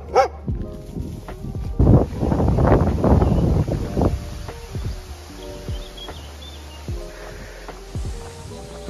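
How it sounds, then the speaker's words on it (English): Gusty wind rumbles across the microphone, with a dog barking several times in the middle and faint birdsong behind. "It's windy today."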